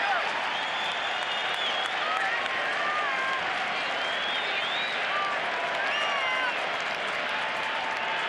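A ballpark crowd at a Phillies opening day game cheers and applauds as a pinch hitter comes up in the seventh inning, a sustained distant roar with whistles rising over it.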